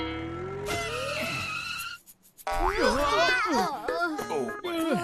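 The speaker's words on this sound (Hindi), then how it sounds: "गाड़ी क्यों रोक दी?" A car in an animated Hindi family movie skids to a stop with a long tire squeal over background music, then children and adults talk excitedly after a short pause.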